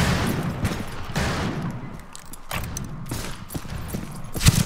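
Scattered gunfire in a video game shooter, likely a Sharps rifle match, pops in irregular shots and short volleys, fairly loud, with a sharp close blast near the end and a busy game backdrop.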